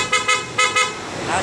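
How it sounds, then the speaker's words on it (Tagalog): Four short, sharp toots from a dual-contact horn on a Honda Click 125i scooter in quick succession, loud and close, followed by a brief lingering tone. "Tapos busina."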